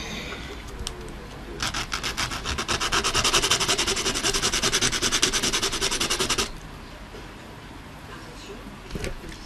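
A steady scratchy rubbing of a sander across glossy paper for about five seconds, loud and close, with faint noises before and after.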